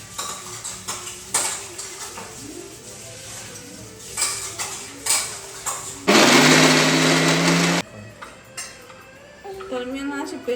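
A kitchen mixer grinder whirs loudly for a couple of seconds as it grinds cooled ingredients into a paste for cashew masala, amid clinking utensils and clatter, with someone talking before and after.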